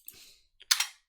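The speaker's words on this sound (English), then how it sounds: "So I'm typing in the passphrase." A few quiet keystrokes as a passphrase is typed on a computer keyboard: one soft tap, a short pause, then a brief cluster of clicks.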